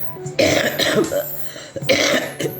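A person coughs hard and close, with a few rough bursts and throat-clearing rasps over a couple of seconds, loud and alone.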